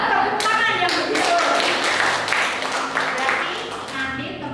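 A classroom group claps hands steadily for several seconds, a dense, even patter of many hands with a few sharper single claps standing out, and voices mixed in underneath.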